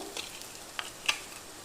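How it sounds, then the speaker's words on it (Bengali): Onion and tomato frying in a pan, stirred with a few scrapes and clinks as ginger and garlic paste go in, a soft sizzle underneath. "এক টেবিল চামচ আদা আর দু টেবিল চামচ রসুন বাটা দিয়ে এটাকে আবারও একটু ভালো করে কষিয়ে নেব"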